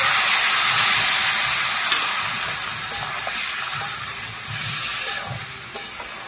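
Spiced hog plums with salt, turmeric and red chilli powder cook in a pan as a little water goes in, giving a loud hiss and steamy sizzle that slowly settles, with a few soft clinks from stirring.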